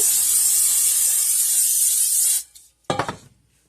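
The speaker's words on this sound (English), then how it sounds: "I'm going to grease my bowl." Cooking spray hisses in one long, loud, close burst while greasing a bowl for bread dough, stops abruptly, then a short scuffing rustle follows.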